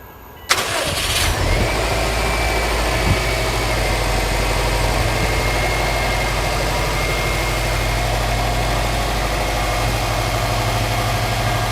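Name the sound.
2004 Subaru WRX STI engine idling after start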